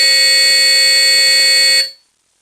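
A Simplex 4051 fire alarm horn blares continuously at very high volume, a harsh, steady, close electronic tone that holds for about two seconds before cutting off into silence.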